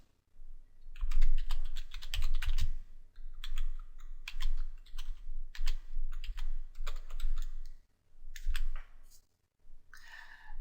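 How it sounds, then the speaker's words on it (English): Close keyboard typing as a vmkping command is entered on a computer, with bursts of quick clicking keystrokes broken by short pauses. "You type the command name and the destination IP address."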